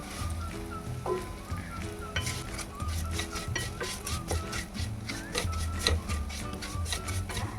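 Vermicelli for kheer stirred and roasted in a pan, a close, continuous scraping and rustling with rhythmic strokes of the spoon against the metal and a light sizzle underneath, with no talk.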